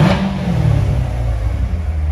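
A 2015 Chevrolet Corvette coupe, 2LT with Z51 package, idles with a steady deep engine rumble close by, alone and even throughout.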